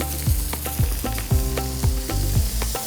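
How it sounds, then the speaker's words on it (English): A wagyu New York strip steak sears in butter in a hot pan, a loud close sizzle with repeated sharp scraping strokes and knocks at an uneven rhythm, no voices. "So sear every single, side. And then I'm gonna add lots of butter."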